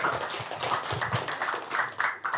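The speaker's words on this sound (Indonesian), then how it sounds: "Tepuk tangan dulu dong." A small group claps in quick, uneven bursts, the hand claps close and busy with a bit of background murmur.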